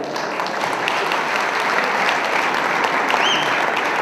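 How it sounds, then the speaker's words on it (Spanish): Loud, sustained applause from an indoor audience at a dog-sport ceremony in Guatemala, steady clapping filling the room without pause, with no voices over it. "al licenciado Miguel Ángel Martínez, para quien pedimos un fuerte aplauso"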